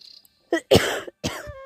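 Someone by a village pond coughs three times in quick succession, close and loud, with quiet surroundings between the bursts.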